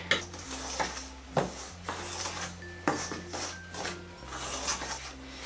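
Dough being mixed with homemade soy milk in a bowl for vegan meat, close scraping and stirring strokes with repeated knocks and clinks of a utensil against the bowl, along with a low steady hum.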